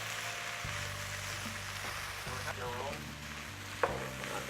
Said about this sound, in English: I'm gonna start stirring everything in together